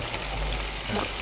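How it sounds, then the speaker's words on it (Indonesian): Chili peppers and tomatoes fry in hot oil in a pan for a Padang-style chicken dish, giving a steady, even sizzle with faint stirring underneath and no talk. "Nah, terakhir cabainya udah mulai coklat, baru kita masukin tomatnya ya. Tomatnya juga goreng ya."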